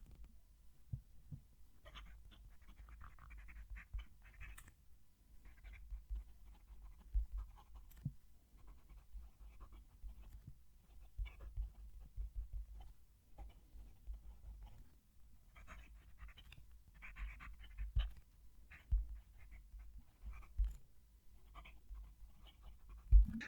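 A Majohn M1000 fountain pen nib writes a sentence on paper, making faint, intermittent scratchy strokes against quiet background rumble, with no talking.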